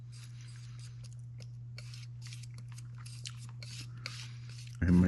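A palette knife scraping excess paint off a canvas while scumbling rocks, a series of short, dry rasping strokes, close and fairly quiet over a low hum, ending with a sudden louder knock.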